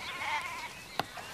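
An injured sheep that has stepped on a nail bleats in a short, wavering cry during a veterinary check, followed by a single sharp knock; no one speaks.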